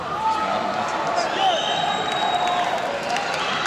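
A large crowd at a concert in Leeds cheers and applauds continuously, with scattered whistles and shouts rising over a steady roar.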